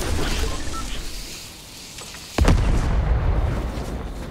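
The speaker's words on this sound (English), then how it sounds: "Is there an explosion over by you?" Fortnite gameplay produces a sudden loud, deep boom about midway through, with the explosion's rumble lingering over a continuous dense game noise bed; no voices.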